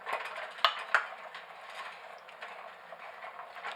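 Chili stirred in a cooking pot, with a spoon scraping and clinking against the metal. Two sharp knocks come early, then softer scraping continues, fairly quiet and without talk.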